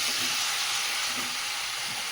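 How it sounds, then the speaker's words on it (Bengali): Chicken pieces and potatoes sizzle steadily in a hot pan during a Bengali chicken curry sauté, a dense continuous frying hiss with no voices, close and even throughout. "এইবার কষানোর পালা, শুধু কষাতে হবে ভালো করে"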